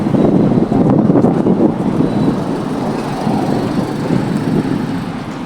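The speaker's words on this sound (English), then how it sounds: "So windy. I know you will not be able to hear me." Strong wind outdoors on a street in Nairobi buffets the microphone in a loud, continuous rumbling roar that gusts slightly and then eases a little toward the end.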